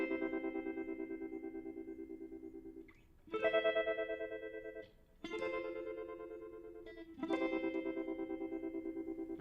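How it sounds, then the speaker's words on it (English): Clean guitar chords with the overdrive switched off, pulsing through a steady tremolo effect, strummed in three long sustained passes with brief gaps and faint string noise between them. "So with the tremolo, it sounds like this."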